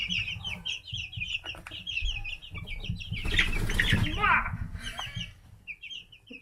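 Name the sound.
chickens fighting and flapping wings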